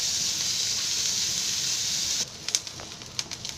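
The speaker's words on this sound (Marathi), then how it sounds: "कांदा भाजला आहे" Onion frying in a pan on high heat for a drumstick bhaji, a steady, bright sizzle that suddenly drops away to a quieter hiss with a few scattered pops and crackles.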